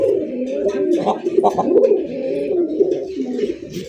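Pigeons coo up close in a series of soft, throaty, rolling calls that repeat almost without pause.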